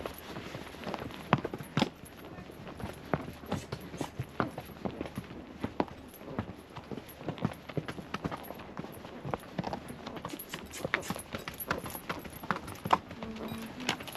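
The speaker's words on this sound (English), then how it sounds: "So this is my first time ever riding a horse" Horse hooves clip-clop in a steady, uneven walking rhythm along a trail in Colombia's Cocora Valley, close and moderately loud over quiet outdoor ambience.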